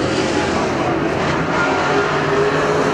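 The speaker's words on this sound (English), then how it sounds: "Maybe a challenge coming up for 5th is Ricky Lee in the white 81 car closing in on the 98 of Underwood." Super stock race cars roar around the oval at Perris Auto Speedway, a dense continuous engine drone from several cars at once, loud and unbroken, with a faint announcer's voice beneath.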